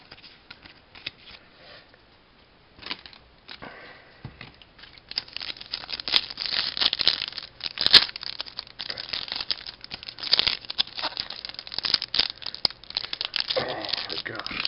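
Foil wrappers on 2010-11 Upper Deck Series 1 hockey card packs crinkle and tear in bursts, close and fairly loud, with rustling that goes on for several seconds after a quieter start.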